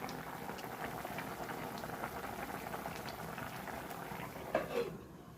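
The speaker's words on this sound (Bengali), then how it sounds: "পেঁপেগুলো একটু সিদ্ধ হোক" Papaya curry boils in a pot, a steady soft bubbling and popping with a brief louder stir near the end before it quiets.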